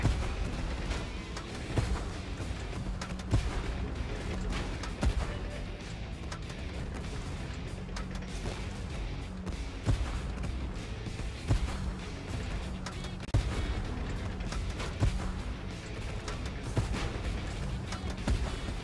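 Tank cannon fire in the Tank Force video game, with repeated sharp booms punching through a dense, continuous rumble of engine and battle noise over nearly twenty seconds.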